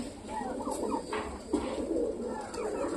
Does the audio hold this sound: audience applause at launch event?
no